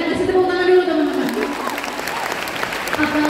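An audience claps steadily and fairly loudly at an Indonesian youth seminar, an even wash of applause lasting a few seconds with a voice briefly over it.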